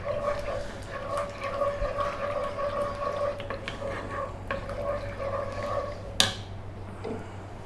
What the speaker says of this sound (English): And again, mix on this low heat.